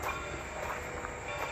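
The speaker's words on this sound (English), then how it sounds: "You can hear a train, a lot of train rides going off in town here." A train rolling through a small town, a steady distant rumble and rail noise with faint squeals, heard alone and continuous.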